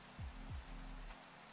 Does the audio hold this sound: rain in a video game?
yes